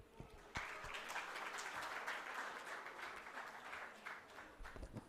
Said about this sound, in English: let the applause soar more higher